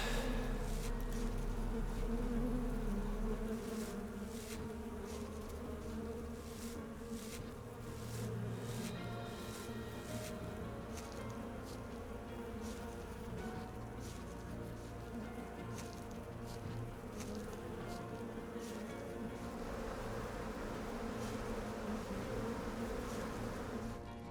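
Flies buzz continuously in the horror dating video game Sucker for Love, a droning insect hum with soft clicks and shifting pitch over a low ambient backdrop.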